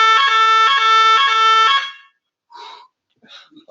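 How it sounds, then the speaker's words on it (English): A loud, harsh electronic fire alarm at a conference blares in a pulsing tone for about two seconds, then cuts off, leaving a few scattered murmurs in a quiet room. "Sounded like fire alarm"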